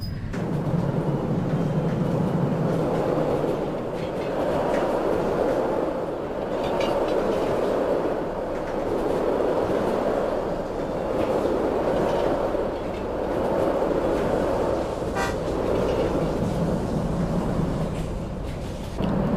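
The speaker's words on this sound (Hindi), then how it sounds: "फटाफट से मैं थोड़ा यहाँ पे ब्रेक लगाना शुरू करता हूँ बिकॉज जो स्पीड है वो बहुत जल्दी इंक्रीज़ हो रही है" A train in a railway video game rumbles along steadily at a constant loud level, a continuous low rolling drone with faint clickety-clack and occasional light squeals of braking wheels.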